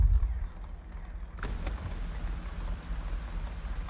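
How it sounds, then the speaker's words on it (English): Soft patter of rain falling on surfaces in the video game SnowRunner, a continuous wet hiss that thickens slightly after a brief pause near the start. "Hey, it's raining."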